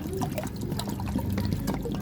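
Water poured steadily from a container into a clay dish for Muscovy ducks, a continuous close splashing trickle lasting throughout.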